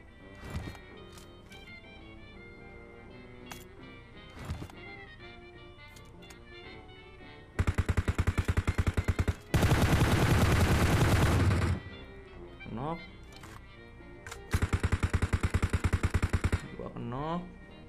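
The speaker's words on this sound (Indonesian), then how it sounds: "wah kok dia nembak dari sana" Gunfire in the mobile battle-royale game PUBG Mobile sounds in loud sustained automatic bursts, separated by quieter stretches of game ambience and a few single shots.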